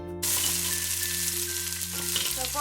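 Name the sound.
onions frying in a warmed pan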